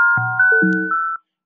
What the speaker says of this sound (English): Make some kind of bells.